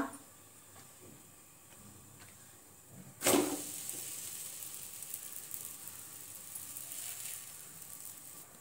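Chapati set on a hot pan, quiet at first, then a sudden soft sizzle that flares up and settles into a faint, steady hiss, with no voices.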